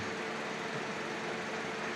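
The radiator fan motor of a 2023 Toyota Vios runs steadily, a constant even whir with no change in pitch or level throughout.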